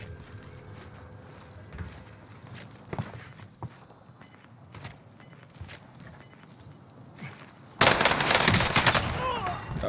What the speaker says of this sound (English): One is getting shot over there.